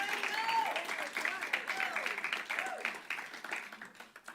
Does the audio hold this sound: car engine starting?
no